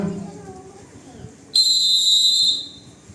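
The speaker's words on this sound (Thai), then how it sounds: "สัญญาณนกหวีเสียงยาวหนึ่งครั้งที่จราจรนะครับ" A single long, shrill traffic police whistle blast held steady for about a second, after faint background noise.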